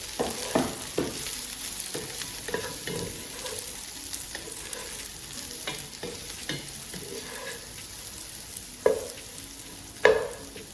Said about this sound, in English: Add the roasted cauliflower to the other ingredients in the saucepan. Stir well to combine with the onions.